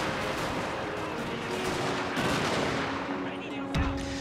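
Artillery and musket fire from the Total War: Shogun 2 Fall of the Samurai battle, a dense continuous roar of overlapping gunfire and booming cannon, with a heavier low blast near the end.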